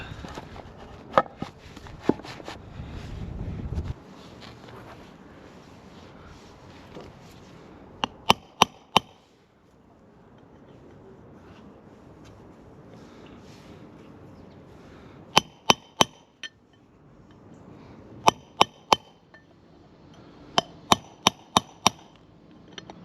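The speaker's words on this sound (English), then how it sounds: "I'm going to try and hammer it through the bottom." Sharp metallic hammer blows ring out in quick clusters of two to four strikes, separated by quiet pauses, close and loud, hammering a wheel bearing out of a Hayabusa motorcycle wheel.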